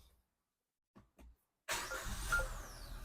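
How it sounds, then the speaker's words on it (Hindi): A Maruti Suzuki Grand Vitara's engine cranks and catches after a few quiet seconds with brief low thumps, then settles into a loud, steady idle with a broadband hiss. "गाड़ी को स्टार्ट करूंगा"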